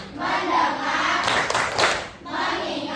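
Schoolchildren in a classroom clap together in the tepuk fokus game, with a burst of quick group claps in the middle and young voices chanting in unison around it.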